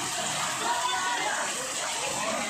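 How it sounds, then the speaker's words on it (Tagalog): Waist-deep floodwater sloshing and splashing in a residential neighbourhood during Typhoon Carina, a steady broadband wash of water close by with people talking over it throughout. "Hanggang bewang na ang tubig."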